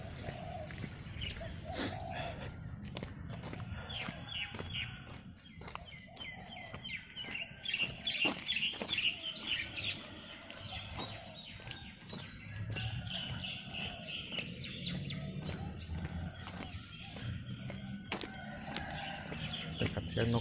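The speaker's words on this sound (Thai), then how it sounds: "ครับเสียงนกกาหน้าแห้งเสียงไก่" Birds call and chickens crow outdoors on an early-morning walk, a steady, moderately distant chorus with chirps and occasional rooster crows over light background noise.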